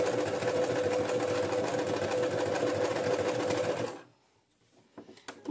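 Household sewing machine running a plain straight stitch on knit fabric, loud steady whirring for about four seconds, then stopping abruptly with a few faint clicks after.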